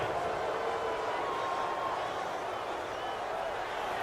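A home crowd in the Madden 18 football video game roars steadily after a pass interference call, a dense, continuous wash of cheering that holds at an even level throughout.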